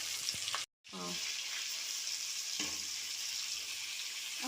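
Food frying in a pan, a steady close hiss of sizzling oil that runs almost without a break, cut by one brief gap of silence and a few light clinks as the food is stirred.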